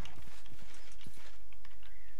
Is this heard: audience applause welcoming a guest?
no